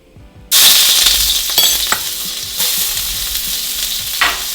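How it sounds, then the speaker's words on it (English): Garlic and ginger dropped into smoking-hot vegetable oil for Chinese lo mein, bursting into a loud, close sizzle that keeps crackling steadily with stirring scrapes throughout. "Now I'm going to add in our garlic and our ginger."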